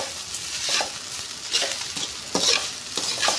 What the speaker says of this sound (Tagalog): Baka masunog. Haluin muna natin.